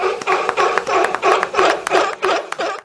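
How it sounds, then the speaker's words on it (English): A small studio group claps steadily at the close of a weekly pop-culture podcast, with sharp close hand-claps over about three seconds and no talking. "We'll at least give you a round of applause."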